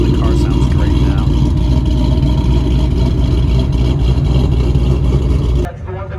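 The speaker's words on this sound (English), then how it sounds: "I decided to fix all my exhaust leaks, and the car sounds great now." A Ford Mustang with freshly repaired exhaust leaks idles at a stick-shift drag event, a loud, steady, deep exhaust rumble that drops off abruptly near the end.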